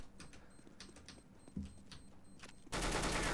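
Gunfire from Counter-Strike: Global Offensive crackles in rapid bursts of sharp shots, moderately loud, ending in a dense, loud blast of fire.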